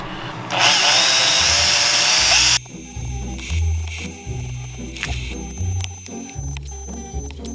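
A bristle brush scrubs grimy parts of a Volvo Penta D2 55 sailing-boat raw water pump. A loud, dense hiss runs for about two seconds, then gives way to uneven scrubbing strokes over a low background rumble.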